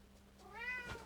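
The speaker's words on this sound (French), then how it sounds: "Oh, mon chat! Mon bébé! Viens dire bonjour." A pet cat meows once up close, a single rising-and-falling call in a quiet room with a faint steady hum behind it.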